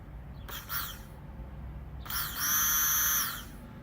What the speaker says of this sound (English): So we're connecting direct voltage from the battery to the fuel pump itself.